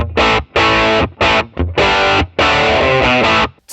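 Electric guitar played through AmpliTube 5 pedals with a distorted rock tone, loud and upfront in several short chopped bursts separated by brief gaps, ending with a sustained ringing chord.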